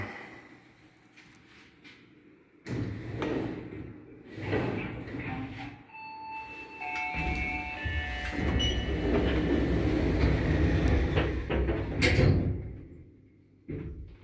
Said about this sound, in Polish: I dość głośno pracuje jak na nowy dźwig.